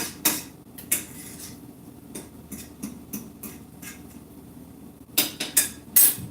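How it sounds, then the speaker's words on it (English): Onions sauté in a pan for chicken lasagna while a utensil stirs them, giving scattered sharp clinks and scrapes against the metal over a quiet background, with no talking. "stirring these onions around. These onions are sauteing."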